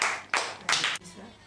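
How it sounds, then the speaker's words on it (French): A few bursts of hand clapping in a classroom, with children clapping in short uneven groups and a voice speaking briefly between them. "Bravo! Applaudissez,"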